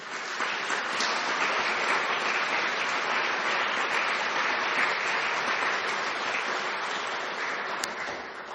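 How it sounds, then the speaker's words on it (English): Dense, steady applause from a conference audience at an award presentation, even and sustained throughout with no talk over it. "So give a round of applause to Rosemary."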